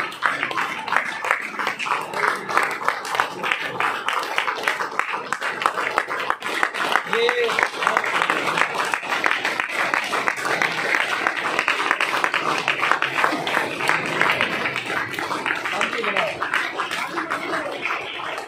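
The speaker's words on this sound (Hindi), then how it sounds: "तो चलिए जोरदार तालियों से वेलकम करते हैं" A crowd gives a long, sustained round of applause to welcome a woman onto the stage at an event, steady dense clapping filling the whole stretch with murmured voices mixed in.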